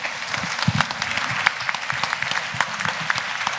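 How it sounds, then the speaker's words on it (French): Full applause in a lecture amphitheatre during a dyslexia awareness day in Lyon, thick sustained clapping from a large audience, loud and continuous throughout. "On les applaudit très fort"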